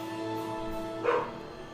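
A dog barks once indoors, a single short bark partway through, heard under steady game music.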